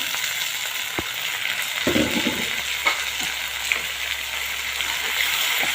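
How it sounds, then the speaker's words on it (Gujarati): Tomato gravy frying with onions in a pan for a val bean curry, a steady broad sizzle with a few spoon taps and scrapes, close and continuous. "ટામેટાની ગ્રેવી થોડી શેકાવા દેવાની છે આપણે"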